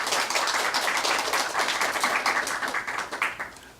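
An audience at a political lecture series claps to welcome a speaker, brisk, dense clapping that holds steady, then thins and fades out toward the end, with no talking over it.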